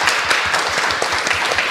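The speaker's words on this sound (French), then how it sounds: "qu'on leur fasse encore un tonnerre d'applaudissements" A brief, loud burst of audience applause at the PodRennes 2024 podcast event, dense clapping filling the room at a steady level with no voices over it.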